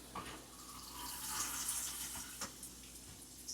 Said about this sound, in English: we're going to place a 1/4 cup of water in there